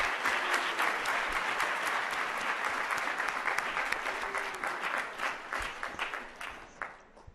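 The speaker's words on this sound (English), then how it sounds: "How about one final applause?" Audience applause at a young entrepreneurs' session with President Kagame: dense, steady clapping from a large crowd, sustained throughout and thinning toward the end.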